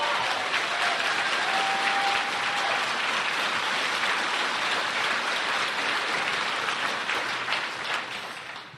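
Sustained applause from a large crowd at a political conference, a steady dense wash of clapping that holds throughout and fades slightly at the end.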